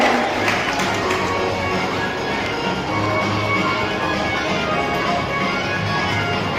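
An audience at a school leaders' investiture ceremony applauds steadily, a dense, even wash of clapping from a large crowd lasting several seconds, with a low hum underneath.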